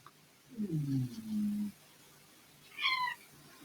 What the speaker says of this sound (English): Oh, cat's come to join in.